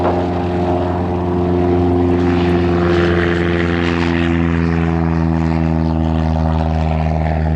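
A small propeller airplane's engine roars at full power during takeoff on a first solo flight, loud and steady with strong droning harmonics filling the cabin throughout.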